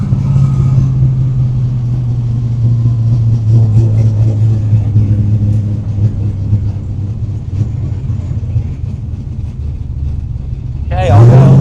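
A 1968 Camaro pro-street car's engine drones in first gear, a loud, steady low rumble from inside the car that swells near the end.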